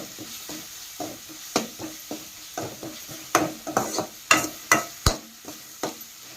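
Avarekai being stirred and fried with turmeric in a pan, with a rhythmic series of scraping strokes and sharp metallic knocks repeating about twice a second over a low sizzle, close by.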